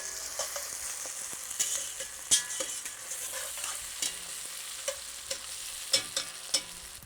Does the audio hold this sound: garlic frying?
yes